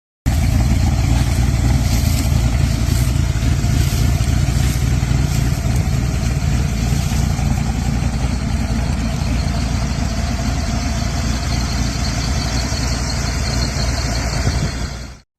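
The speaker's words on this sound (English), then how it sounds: "At the heart of this stunning coupe lies a supercharged engine that delivers exhilarating" A supercharged engine in a 1931 Ford Coupe street rod runs steadily at a loud, close idle, a continuous low rumble with no talking.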